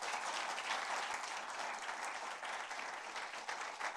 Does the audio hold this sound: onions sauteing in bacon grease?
no